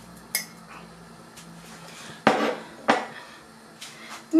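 Spoon clinking and scraping against a pot while stirring a flour-thickened sauce for chicken gizzards, with a few sharp metallic knocks and clatters spaced out over low kitchen background noise.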